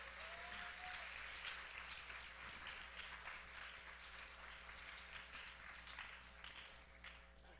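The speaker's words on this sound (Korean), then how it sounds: "언니에게 다시 한번 힘찬 큰 박수." Audience applause at a church service, a steady sustained wash of clapping from a congregation filling the space at moderate level, with no talking over it.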